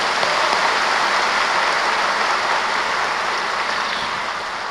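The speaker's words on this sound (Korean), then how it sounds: "다시 한번 박수 하겠습니다" Dense, steady applause from a large church congregation, continuous throughout and tapering slightly toward the end, with no voices over it.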